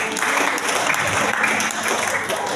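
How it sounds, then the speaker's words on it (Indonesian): A church congregation at a revival service bursts into dense, steady applause, close and loud throughout, with many hands clapping together and no speech over it. "Tepuk tangan untuk kesalahan"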